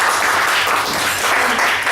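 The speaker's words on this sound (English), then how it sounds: "please give a warm round of applause for Kun Somsak." An audience at a travel talk breaks into loud, dense applause for a speaker. The clapping is close and sustained for the full two seconds.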